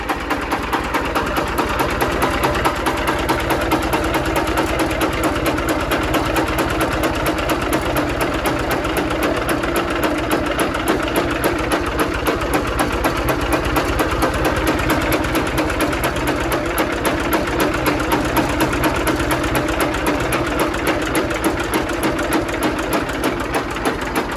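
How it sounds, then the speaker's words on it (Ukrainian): An engine with a freshly overhauled cylinder head and adjusted valves revving high and steady, a dense buzzing rattle with fast regular pulsing that holds constant throughout, loud and close. "я хочу вам просто, щоб ви послухали, як працює двигун"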